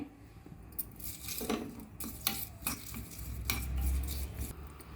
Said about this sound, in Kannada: ಒಗ್ಗರಣೆಗೆ ಎಣ್ಣೆ ಸಾಸಿವೆ ಕಬ್ಬೇವು ಹಾಕಿದ್ದೆ ಈಗ ಅದು ಚಟಪಟ ಅಂತ ಇದೆ